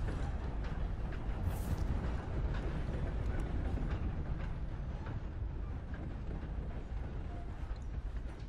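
A steam train rolls through the Red Dead Redemption 2 game world, a steady, dense rumble of wheels and carriage noise that stays loud and continuous throughout, with no talk over it.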